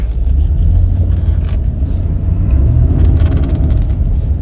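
A 2021 Ford F250 STX crew cab pickup driving in four-wheel drive, a loud, steady low engine and road rumble from inside the cab with no talk.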